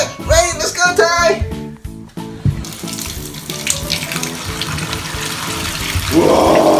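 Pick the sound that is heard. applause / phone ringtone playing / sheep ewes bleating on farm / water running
water running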